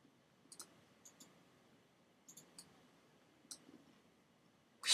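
Several sharp computer mouse clicks come in small pairs and clusters, crisp and close against a quiet room.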